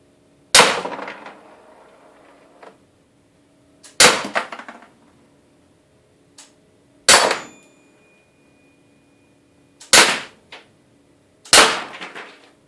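Airsoft pellets strike a Gamco metal target twelve feet away in five sharp, ringing clangs spaced a couple of seconds apart, each decaying quickly, with a couple of fainter ticks between hits and no voices.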